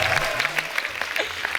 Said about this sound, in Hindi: दोनों के लिए जोरदार तालियां।